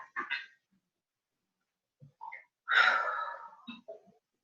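A dog barks during a video call: one loud bark stands out among a few softer yips and breathy sounds, with short quiet gaps between them.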